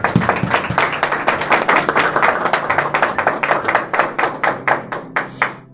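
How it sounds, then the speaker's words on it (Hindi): A church congregation applauds loudly during a Christmas sermon, dense clapping that settles into a steady rhythmic beat and slowly thins out toward the end, with little talk. "जोरदार तालियां यीशु नाम के लिए।"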